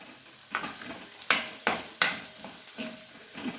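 Stuffed eggplant cooking in oil over low heat in a pan, giving a steady soft sizzle broken by several sharp scraping stir strokes at irregular intervals, close and moderately loud, with no voices.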